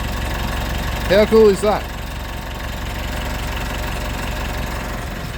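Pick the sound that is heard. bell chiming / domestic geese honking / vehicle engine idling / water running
vehicle engine idling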